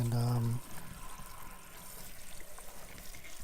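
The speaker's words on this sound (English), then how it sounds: "I'll actually rinse them in another running water too, like I'm doing there." Water runs and trickles steadily under a tap over peppers being rinsed, with a soft splashing texture; a brief tonal sound opens the clip.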